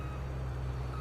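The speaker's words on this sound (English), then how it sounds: "you could hear the beeping, and that's what I like about combines" Quiet electronic reversing beeps from a combine harvester in the Farming Simulator 22 farming game, heard as a faint steady tone over a low engine hum.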